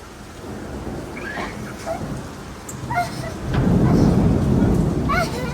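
Rain falling outdoors, with a low rumble of thunder building partway through, and a voice talking over it.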